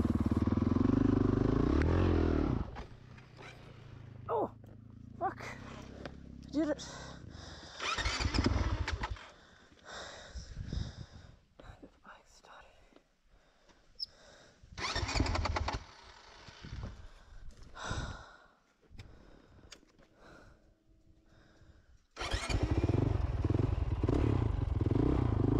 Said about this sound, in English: there's a knack to starting this bike. You do need to be careful. You can't just mash that starter button